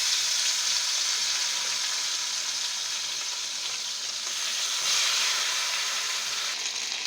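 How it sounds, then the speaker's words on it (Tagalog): Chicken legs frying in hot oil, a steady bright sizzle and crackle that holds loud and even throughout with no voices. "Pag mainit na po yung mantika, lagay natin yung chicken."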